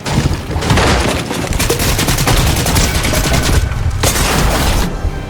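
Shotgun blasts in a first-person shooter video game with pump-action delay, a loud, dense barrage of repeated booming shots with overlapping gunfire filling the whole stretch, up close, with only brief dips between bursts.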